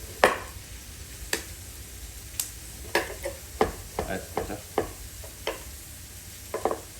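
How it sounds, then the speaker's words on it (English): Knife slicing through raw beetroots on a cutting board, a series of sharp, close cuts arriving irregularly, some spaced apart and others in quick clusters, with no talk. "Alright, so we slice the beetroots first."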